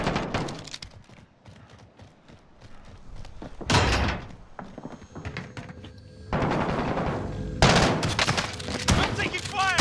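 Gunfire in Call of Duty Modern Warfare on Birth Island, several loud, dense bursts and sharp shots cutting through a busy game soundscape, with quieter stretches of ambient noise between them.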